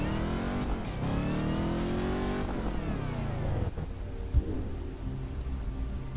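An Ariel Atom V8 in Test Drive Unlimited 2 revs hard with a steady, loud engine roar that climbs in pitch, drops, then settles into a lower drone, with no talk over it.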